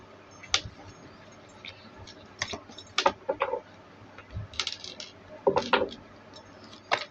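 Tarot cards being shuffled by hand, with sporadic crisp riffles and soft clicks that come in uneven bursts, close and fairly quiet.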